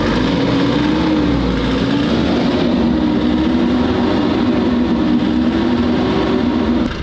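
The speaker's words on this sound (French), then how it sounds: "je vais mettre 2-3 coups de gaz pour emmener le gasoil en pression vers 800 bars" Diesel engine of a broken-down truck idling loud and close, its low drone rising and falling as the throttle is blipped two or three times to build fuel pressure, with no talk over it.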